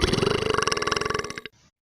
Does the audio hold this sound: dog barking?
no